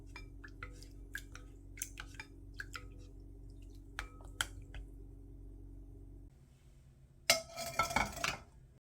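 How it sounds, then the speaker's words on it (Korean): Seasoning sauce made with anchovy fish sauce and minced garlic stirred in a bowl with a spoon, giving a run of soft clinks and wet taps over a low steady hum, ending in a busier clatter. "양념장 저어 볼 건데요"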